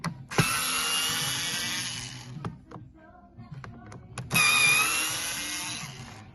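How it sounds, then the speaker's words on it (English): An electric screwdriver undoes the four handle screws on a QTX portable busker amplifier, with two long, loud, steady whines close to the microphone and a quieter pause of small clicks and handling between them. "What we need to do is have ideally an electric screwdriver with a decent length"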